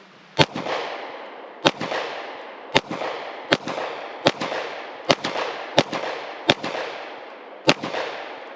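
Pistol shots fired at a target about seven yards away on a range, about nine sharp, loud reports spaced at irregular intervals of roughly a second, each leaving a brief echoing tail.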